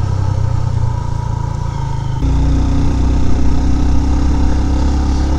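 A motorbike engine runs loud and close, its note dropping and settling into a lower steady drone as the bike slows on a road in winter Kashmir, with no talk.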